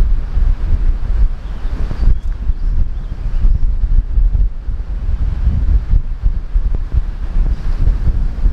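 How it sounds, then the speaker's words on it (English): Strong wind at a lakeside camping spot buffets the microphone with heavy, rumbling low gusts that rise and fall in waves, loud and continuous with no voices. "Every time I'm up here, it's windy like this, though."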